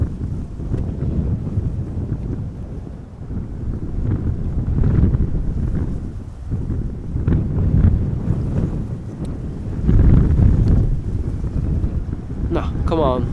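Strong gusting wind buffets an outdoor camera microphone at Amsterdam Schiphol Airport, a loud low rumbling roar that swells and eases in waves with no clear voices.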